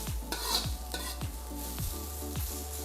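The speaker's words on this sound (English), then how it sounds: "This is the method of cooking is known as stir frying." Noodles sizzle steadily in a pan over a high flame while a utensil scrapes and stirs in a regular rhythm, with a metallic clink now and then.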